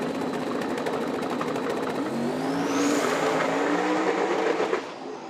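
A drag racing car makes a full-throttle pass at the US Street Nationals at Bradenton Motorsports Park, its engine roaring loudly and climbing in pitch as it accelerates, then cutting off abruptly near the end.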